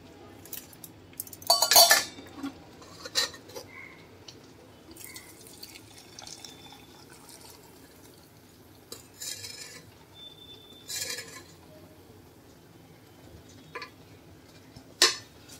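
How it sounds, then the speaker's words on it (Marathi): Hot homemade ghee poured from a pot into a container, with soft trickling, drips and occasional metal clinks of the vessels, mostly quiet with a few louder clattering moments. "आता मी गरम गरम तूप या डब्यात ओतून घेणार आहे."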